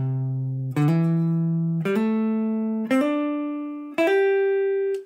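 An electric guitar plays single notes in slurred legato practice, five distinct notes stepping upward with uneven timing and volume, each ringing out and decaying before the next attack.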